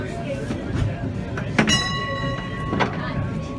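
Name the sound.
green tram running on rails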